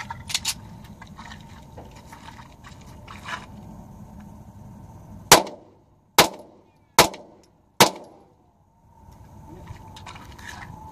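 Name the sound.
gunshots from Ruger pistol fired at a bottle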